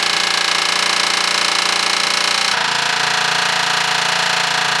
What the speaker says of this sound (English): So we got about an hour of air hammering